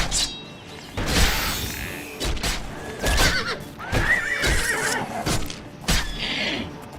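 A horse in the video game Elder Scrolls IV: Oblivion neighs and whinnies repeatedly amid clip-clopping hooves and scattered combat thuds, all close and fairly loud.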